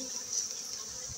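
A steady, dense buzzing of many honeybees at a hive hums continuously at moderate volume, with faint low rustling underneath.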